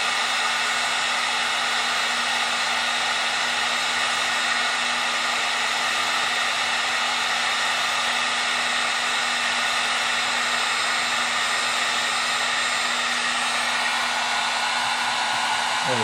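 A heat gun blows a steady, loud hiss of hot air onto a solder seal wire connector, shrinking the tubing and melting the solder inside, holding on without a break from start to end.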